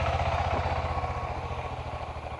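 A motorcycle engine runs loudly and steadily with a low, pulsing throb during adventure riding training at Labertouche, Victoria; no one speaks.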